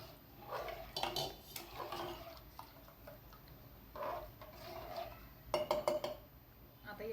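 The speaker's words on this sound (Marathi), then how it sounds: "याला छान हलवून घेते" A spoon stirs wheat porridge (kheer) in a pot, making soft, intermittent scrapes and metallic clinks at close range. Someone talks quietly at times between the stirring sounds.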